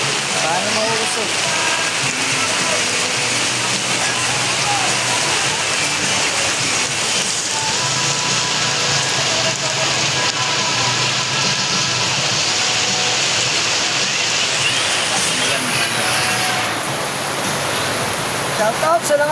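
Heavy monsoon rain driven by Typhoon Luis pours down steadily as a dense, continuous roar with no break, with a voice briefly heard over it partway through.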